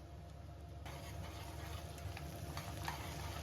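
A Telugu pulihora tempering of mustard seeds, urad dal, ginger, chillies and curry leaves fries in hot oil, giving a close, steady sizzle broken by light stirring scrapes, with no voices.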